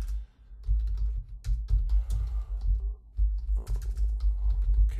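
Someone types on a computer keyboard close by, quick bursts of key clicks with short pauses between words, with no talking.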